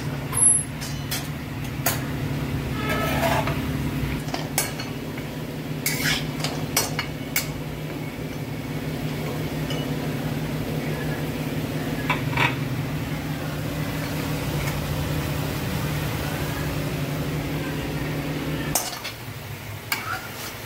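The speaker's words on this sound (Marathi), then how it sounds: "या तिघं वस्तू आपल्याला बारीक गॅसवर तेलामध्ये छान तळून घ्यायचं आहे." Whole spices and turmeric fry gently in oil over a low gas flame while making onion-garlic masala, giving a steady soft sizzle with occasional stirring clinks from a utensil against the pan.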